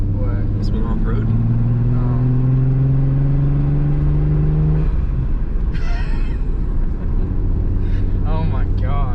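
Mitsubishi 3000GT engine running while driving off-road, a loud low rumble rising in pitch as it revs through the gears, then settling, with people talking and exclaiming over it throughout.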